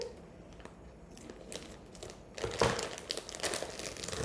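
A food package is being cut open in a kitchen while kielbasa and potato soup is made: soft plastic crinkling and rustling with a few sharper snips and tugs, close by and fairly quiet, with no talking.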